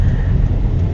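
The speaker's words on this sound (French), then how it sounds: "Il y a ce gros camion mais qui ne veut pas nous céder" Big truck on a road in Benin, a loud, close, continuous low rumble of a heavy engine over road noise for about a second.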